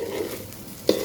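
Basmati rice, about a kilogram, fries in a pot for mutton kacchi biryani, giving a soft, steady sizzle that ends with one sharp clink of a utensil.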